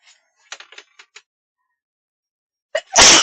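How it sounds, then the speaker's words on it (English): After a few light, scattered clicks and a brief quiet pause, a quick intake of breath is followed by one loud, close sneeze. "I'm gonna sneeze."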